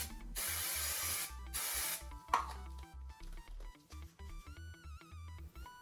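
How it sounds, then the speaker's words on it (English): Spray mount adhesive is sprayed in two steady hissing bursts of about a second each, close and fairly loud, followed by quieter faint tapping and soft background music. "I then apply a thin coat of spray mount"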